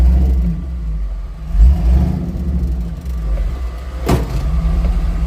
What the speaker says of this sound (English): Let me put this thing on reverse, spin my tires and dig.